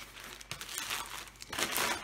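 Crinkly plastic sleeve rustles and crumples as a large diamond painting canvas from an Aliexpress kit is tugged free, with two louder bursts of crinkling standing out close to the microphone.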